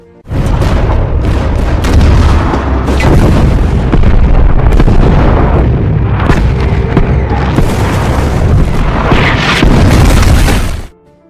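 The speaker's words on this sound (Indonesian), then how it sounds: "artileri pun langsung ditembakkan" Artillery guns firing at Soviet soldiers in a World War II battle, a loud continuous barrage of deep booms and blasts that rolls on for about ten seconds with no pauses, then stops abruptly.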